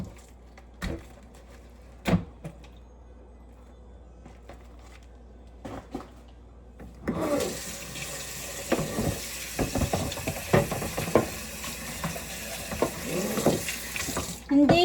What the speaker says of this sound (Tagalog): Para mahugasan yung chicken